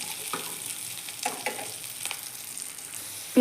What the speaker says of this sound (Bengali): এখন আমি পেঁয়াজগুলো তেলের মধ্যে অল্প সময় ভেজে নেব।